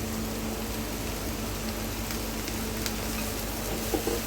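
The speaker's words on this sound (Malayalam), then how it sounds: "ഇനി ഇതിലേക്ക് നമ്മൾ കോളിഫ്ലവറാണ് ചേർത്ത് കൊടുക്കാൻ പോകുന്നത്." Cauliflower goes into a hot pan of curry, setting off a steady, even sizzling hiss that holds throughout at moderate loudness, with no talk.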